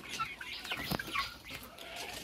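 Chickens and roosters raised for meat cluck and call in a farm coop during hot weather, with faint, overlapping clucks and short cries scattered throughout.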